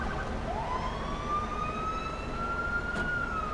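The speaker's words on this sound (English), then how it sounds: "Oh god, ambulance." An ambulance siren sounds in the open-world game GTA V, a single rising wail that holds a long steady tone, moderately distant over a constant low background rumble, with no voices.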